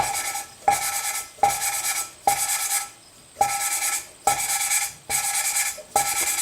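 An engine valve from a 1975 Kawasaki Z1 900 is hand lapped against its seat, producing a close, rhythmic gritty rasp in repeated strokes of about half a second, each broken by a short pause.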